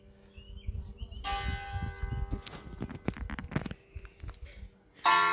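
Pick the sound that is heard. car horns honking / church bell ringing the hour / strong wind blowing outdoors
church bell ringing the hour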